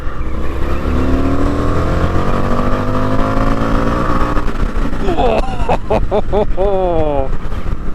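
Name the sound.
Indian FTR1200 motorcycle accelerating through the gears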